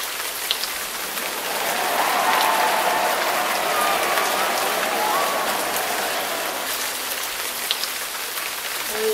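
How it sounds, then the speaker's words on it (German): Steady rain pattering densely on a surface, swelling slightly and then holding constant, with a faint whistling tone drifting underneath. "ich kann es regnen lassen"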